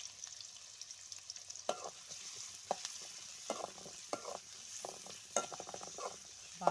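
Chana dal and onions fry in a pan with a steady, faint sizzle, broken by intermittent scraping and stirring strokes of a utensil against the metal, close-up and with no talking.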